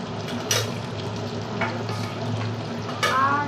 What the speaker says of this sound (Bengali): এদিকে কিন্তু মশলাটা আমার কষানো হচ্ছে